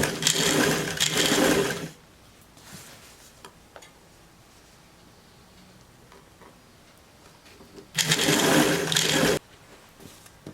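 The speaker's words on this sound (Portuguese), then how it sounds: "Em cima você sempre passa rodando com a mão, que assim não força a sua máquina." Sewing machine stitching a skirt's fabric, two short bursts of rapid close whirring stitches at the start and end, with slower ticking as the wheel is turned by hand in between.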